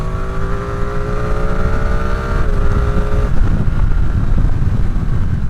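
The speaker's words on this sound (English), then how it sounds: "I love this little engine. It has so much attitude and character." A Ducati Streetfighter V2 motorcycle engine runs loud and close, holding a steady rev before its pitch shifts and settles into a rougher, throatier idle.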